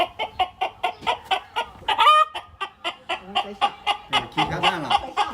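A human voice imitates a hen clucking while laying an egg: rhythmic, evenly spaced clucks building into a rising, drawn-out squawk, then quickening clucks, loud and close with no other sound.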